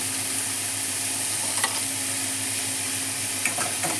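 Cluster beans stirred in a hot pan give a steady, even sizzle, broken by a couple of brief scraping clicks from the spoon, close and moderately loud with no voices.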